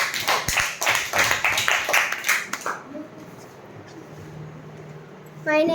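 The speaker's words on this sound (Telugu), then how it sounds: "చప్పట్లు కొట్టనమ్మా." Children in a primary school classroom clap together in a loud burst of applause lasting a few seconds, then it stops, leaving a quieter room with faint murmurs and a short voice at the end.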